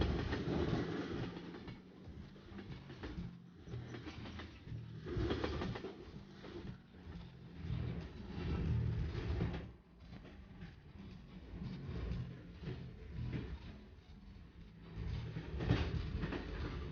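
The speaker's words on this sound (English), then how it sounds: "From Jasper, the train now heads west toward the Yellowhead Pass." The Canadian passenger train rolls on Canadian National tracks heading west from Jasper toward the Yellowhead Pass, giving a continuous rumbling ride noise with soft rhythmic clatter heard from inside the car.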